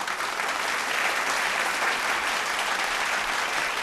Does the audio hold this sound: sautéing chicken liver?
no